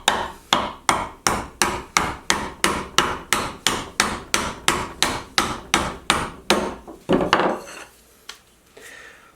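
A hammer knocks a wooden dowel through a steel doweling plate in a fast, even series of about twenty loud ringing strikes, close and alone, then a few heavier blows and a quiet pause.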